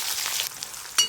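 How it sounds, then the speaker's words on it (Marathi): Chopped onion frying in hot oil with mustard seeds and cumin for a moong dal rassa gives a steady close sizzle, dipping midway and then flaring into a brief louder crackle near the end. "कच्चेपणा जाईपर्यंत गॅसच्यात मोठं ठेवून कांदा व्यवस्थित परतून घ्यायचा"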